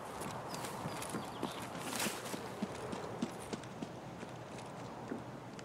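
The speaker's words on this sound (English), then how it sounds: "continued to move up north until I heard some stomping nearby" Footsteps stomp nearby in the shooter Escape from Tarkov, a run of distinct, fairly soft thuds in an irregular rhythm against a steady hissing ambient background.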